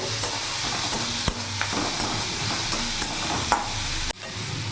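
Bitter gourd stuffing with chopped green chilies fries in a pan with a steady, close sizzle, broken by several scraping stirs and no voices.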